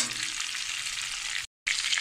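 Bay leaf, cinnamon, clove and chilli sizzle in hot oil with a bright, dense crackle that cuts out briefly near the end before resuming.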